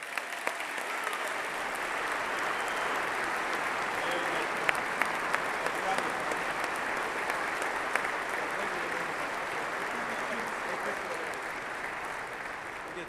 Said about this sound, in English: Give them one more big round of applause, huh?